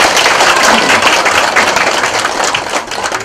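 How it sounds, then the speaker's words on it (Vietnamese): Dense applause from an assembly at the Tường Quang monastery dharma hall, welcoming the venerable Dharma teacher Thích Pháp Hòa, a steady hiss of many hands that holds loud and even before easing slightly near the end. "Xin tất cả đại chúng quan hỷ cho một tràng pháo tay để chung lên thượng tọa"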